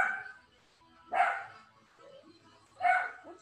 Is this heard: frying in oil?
no